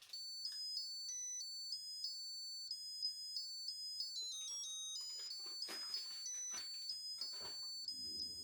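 A rice cooker's ready alarm plays a repeated electronic melody of high, clean beeping tones throughout, with some clattering household noise in the second half.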